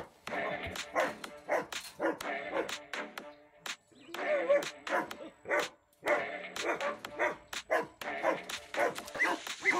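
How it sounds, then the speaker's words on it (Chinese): An eight-month-old Gaolang wolfdog and an older grey wolfdog bark and yip while play-fighting, with a Central Asian Shepherd nearby; close, loud barks come in rapid clustered bursts with short pauses between. "就让八个月大的高狼犬出战，他的对手就是那只老狼狗，狼灰色狼狗。"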